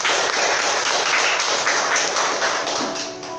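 A congregation at a live church service applauds, a continuous, dense wash of many clapping hands held at an even level from start to finish.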